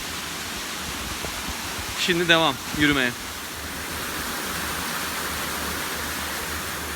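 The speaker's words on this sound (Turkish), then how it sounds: "Şelalenin olduğu yere doğru yaklaşıyorum. Büyük şelalenin olduğu yere." Steady broadband rush of the large Türkmen waterfall heard from the top of the falls, constant and unbroken throughout, with someone briefly speaking over it partway through.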